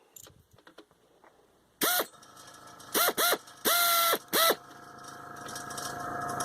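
A Snap-on Blue-Point AT200D pneumatic ratchet after a throttle valve repair, running in several loud, steady whirring bursts of varied length, the first one short and the longest near the middle, with a low air hiss between them.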